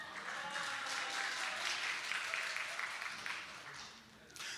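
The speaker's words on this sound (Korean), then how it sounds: "박수합니다." A church congregation during a Sunday sermon claps in a sustained, moderately faint wash of applause that tapers slightly toward the end.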